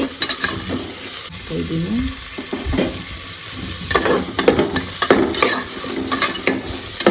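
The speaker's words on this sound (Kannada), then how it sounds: "ಆದಷ್ಟು ಫ್ರೈ ಆಗ್ತಾಯಿದೆ" Curry leaves and onion fry in a pan with a steady sizzle, stirred now and then with scrapes and clatters, the crackle growing louder toward the end; a voice speaks briefly.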